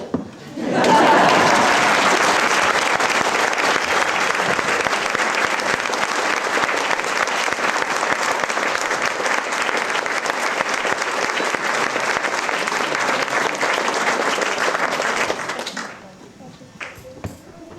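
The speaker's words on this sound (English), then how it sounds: "So we'd like to give you a clap." Church congregation at St Mary's, Hayes, applauding the retiring vicar, the Reverend David Graham, with dense, sustained clapping that fills the space for about fifteen seconds before stopping abruptly, leaving quiet room tone.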